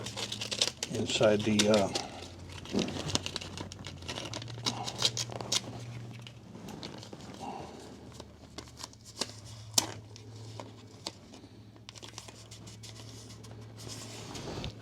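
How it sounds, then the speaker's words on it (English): Painter's tape being torn off a roll and pressed onto the tank clamp area of a 1989 Marmon semi truck under restoration, with a few short crackling rips and rustles close by while someone talks throughout. "I'm just going to take a little bit of painter's tape"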